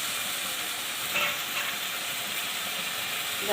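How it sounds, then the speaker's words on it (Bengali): Masala paste for a Bombay duck curry frying in a pan, a steady hissing sizzle at a moderate level with a couple of brief stirring scrapes, close and unaccompanied by speech. "এবার মশলাটা আমি একটু ভালো করে ভেজে নেব"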